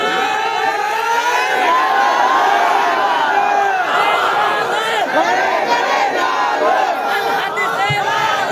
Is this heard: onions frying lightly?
no